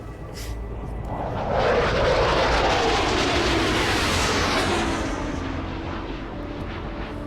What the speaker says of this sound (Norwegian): 2 jagerfly. Er de russiske? Ja.